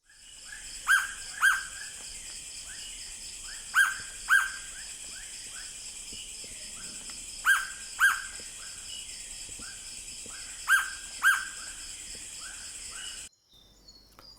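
Hooded Pitta (Pitta sordida) calling in Thai forest, a paired double whistle repeated four times at steady intervals, fairly clear over a constant hiss of insects and background birds.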